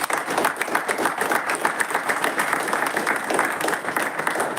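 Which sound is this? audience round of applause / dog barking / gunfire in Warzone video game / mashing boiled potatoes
audience round of applause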